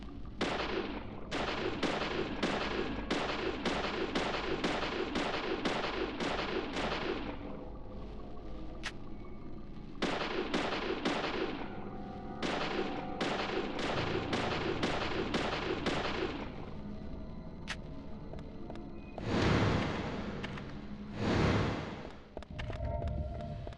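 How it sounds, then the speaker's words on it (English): Rapid bursts of gunfire hitting boxes in the video game Deadly Premonition on Switch 2, loud repeated shots in quick volleys with short pauses, then a couple of heavier blasts near the end. "What if I shoot these boxes?"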